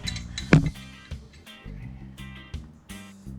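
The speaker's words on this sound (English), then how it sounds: "The strap tightens as you pull, giving the leverage to break the seal." A strap wrench ratchets and creaks as it tightens around a stuck Yeti one-gallon jug lid, giving a few quiet mechanical clicks and strains in short bursts.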